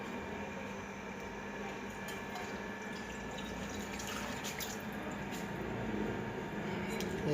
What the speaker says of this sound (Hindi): अब एक गिलास पानी का डालेंगे।